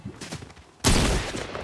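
Gunfire from the video game Fortnite erupts as a sudden loud burst of rapid shots that keeps going after a quieter, scattered lead-in.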